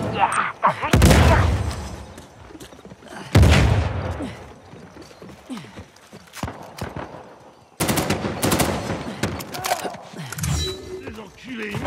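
Gunfire from a bounty hunters multiplayer match in the video game Uncharted 4, with loud bursts of shots and rapid clattering volleys in several clusters, separated by quieter stretches of mechanical noise and background game sound.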